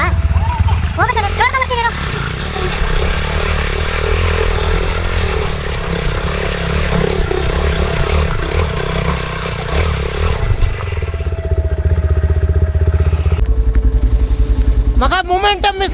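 Yezdi Adventure motorcycle riding an offroad forest trail, a rough, loud engine drone with clattering and scraping over uneven ground, while riders talk throughout.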